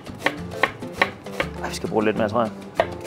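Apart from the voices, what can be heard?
chopping onion finely with a knife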